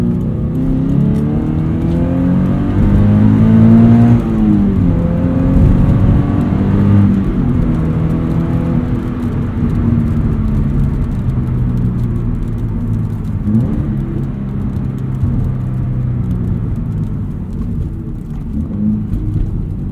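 Subaru BRZ fitted with a Corsa replacement muffler, heard from inside the cabin with the rear seats folded down: a loud, continuous exhaust drone that rises and falls with throttle while driving.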